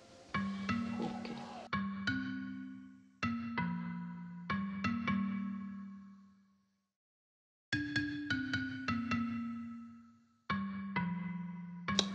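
A phone ringtone plays a repeating melodic pattern of bright tones, ringing in bursts with a short silent pause midway, fairly faint and heard alone without talk.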